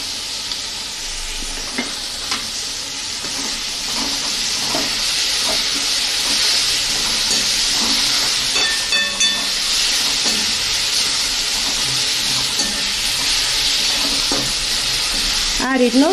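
Spring roll filling of vegetables with soy sauce and tomato sauce sizzles and crackles steadily in a hot pan, with scraping spoon strokes stirring it at irregular intervals throughout, close and fairly loud.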